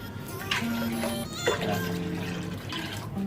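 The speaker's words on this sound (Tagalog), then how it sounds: "lagyan natin ng tubig para matilok talaga siya" Water is poured into a pot while cooking calamay, a sweet sticky rice treat, giving a close splashing trickle that comes in uneven bursts over a low background hum.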